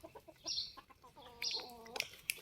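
Chickens loosely free-ranging near young hunting-dog puppies cluck and squawk in short, nearby bursts, with a few higher calls toward the end.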